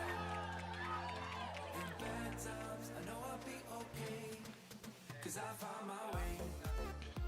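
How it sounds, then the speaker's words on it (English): A crowd cheers and shouts through a junior track cycling sprint race, a steady wash of noise under commentary that swells toward the end. "the loudest I've heard the crowd all day"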